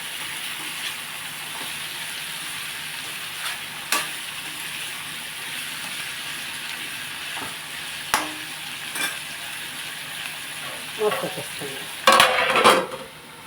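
Capsicum and tomato pieces for an egg capsicum curry sizzle quietly in a pan. Occasional utensil knocks come through, then a louder burst of stirring and scraping near the end.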